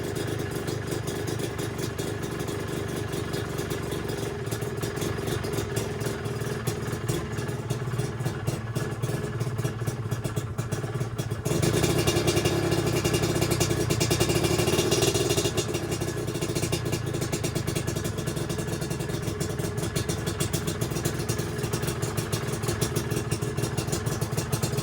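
A Yamaha DT125LC two-stroke motorcycle idles steadily with the choke fully off, a close, continuous buzzing putter with faint clatter, rising slightly in loudness midway before settling back.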